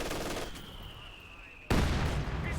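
Automatic gunfire in Company of Heroes 2 tears into Panzer Grenadiers, starting as steady loud bursts, thinning into a quieter lull with a thin whine, then erupting again in a louder close volley.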